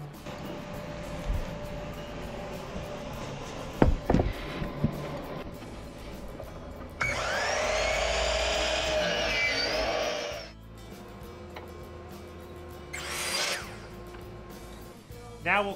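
A power saw trims the top and bottom boards of a wooden bookshelf cabinet, with one loud, steady cutting run of a few seconds and a shorter burst afterward. Quieter workshop knocks and clatter come before and between the cuts.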